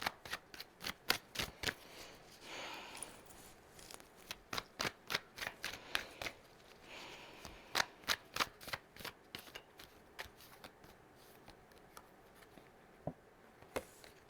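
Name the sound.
shuffling and pulling tarot cards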